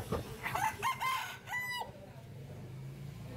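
A rooster crows nearby, with some hen clucking, among native deshi roosters, hens and ducks at the Rajarhat poultry market in Kushtia. The crow is brief and fairly loud over faint market background.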